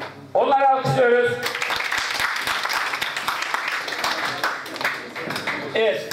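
An audience claps together at an Eyüp culture-and-arts reader-author meeting, a dense, steady wash of applause lasting several seconds, with a voice speaking just before it starts and again as it fades.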